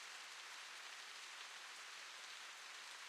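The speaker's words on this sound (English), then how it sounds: "And then we wake up, it's raining" Rain falls in the video game The Path, a soft, even hiss of drops outside a grandmother's house. It keeps up steadily and faintly, with no other sounds.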